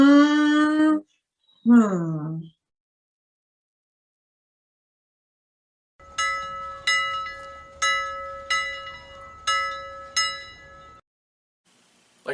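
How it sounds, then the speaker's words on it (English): A clock on the wall chimes with a steady series of about six ringing bell-like strikes, evenly spaced and close, preceded by a short burst of a higher warbling tone and followed by silence. "Like a clock on the wall said ding ding dong, it's time to check the monkey clock."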